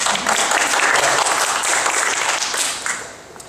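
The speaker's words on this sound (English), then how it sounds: "Let's give them a round of applause for bringing us all together." An audience at an art museum presentation applauds, a dense, loud, steady wash of many hands clapping together that fades slightly at the end, with no voices over it.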